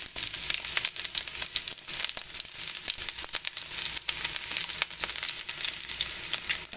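Onion frying in a smoking preheated pan for curried tofu with melon skin, an uneven crackling sizzle with frequent sharp pops and spits and bursts of stirring.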